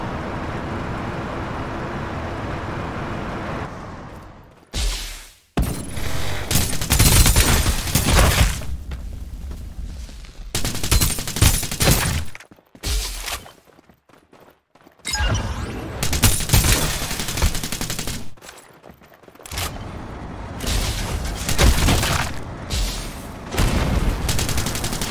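Gunfire in the battle-royale shooter Farlight 84: loud bursts of automatic fire and booming shots in clustered volleys, broken by brief silent gaps, sustained across the clip.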